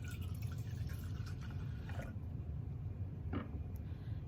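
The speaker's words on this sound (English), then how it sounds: "I am going to take some of this vinegar and pour it into my beaker." Vinegar poured into a beaker at a science demonstration, a quiet continuous liquid fill with soft drips and splashes, close up and without speech.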